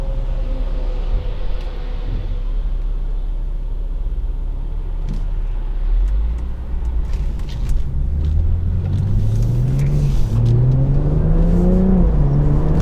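A 2016 BMW 340i M Sport in sport mode revs hard under acceleration, its engine note climbing steadily through rising pitch sweeps over a loud, continuous low rumble.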